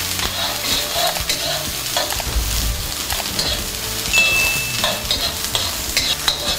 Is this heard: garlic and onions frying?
yes